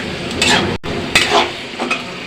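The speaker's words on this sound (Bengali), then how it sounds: "কষাইয়া নিচ্ছি ভালোভাবে।" Chicken and potatoes with spices are stir-fried in a pan for a chicken bhuna, giving a soft sizzle under repeated scraping strokes of a utensil against the pan, with a brief break partway through.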